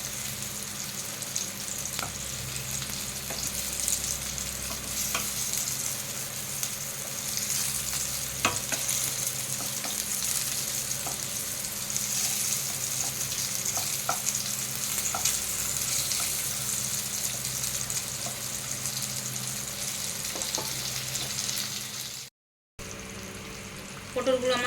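Slices of pointed gourd (potol) fry in hot oil, a continuous close sizzle with scattered pops and occasional utensil clicks, briefly cut to silence near the end before resuming.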